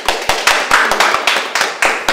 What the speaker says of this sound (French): On peut l'applaudir, merci Audrey.